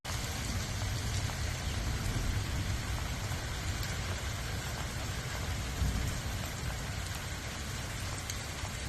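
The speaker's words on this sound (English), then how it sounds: "Nice rain in Calgary." Steady rain falls continuously in Calgary, a dense hiss of drops on surfaces with a low rumble of traffic or an engine underneath.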